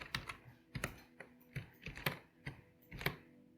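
Typing on a computer keyboard while writing Python code, quiet close key clacks in irregular clusters of a few strokes, alone without talk.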